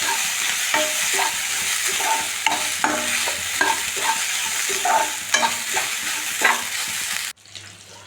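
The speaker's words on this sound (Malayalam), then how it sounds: "നല്ല ബ്രൗൺ കളർ ആകുന്നതിന് വരെ വറുത്തെടുക്കാം." Coconut, chili and shallots fry in oil in a pan, a steady close sizzle with repeated scraping stir strokes throughout, cutting off abruptly near the end.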